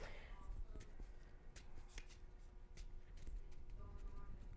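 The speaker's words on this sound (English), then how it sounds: "Okay, got them shuffled?" Playing cards being shuffled during a magic trick at a harvest party, a dense papery riffling that runs steadily for several seconds with sharp flicks, close and moderately loud under faint room noise.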